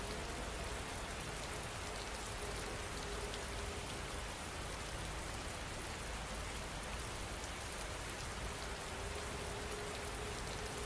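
Steady, even rainfall on a surface, a dense continuous hiss that holds at constant loudness from start to finish, with no voices and no thunder.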